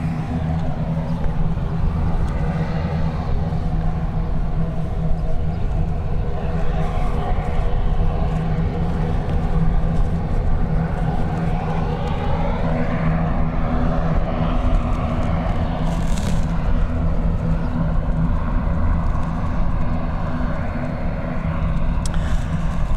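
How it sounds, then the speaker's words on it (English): A Ryanair airliner taxiing at an airport, a steady loud jet engine drone with a continuous low rumble and a shifting whine, unbroken throughout. "our Ryanairs now on taxi"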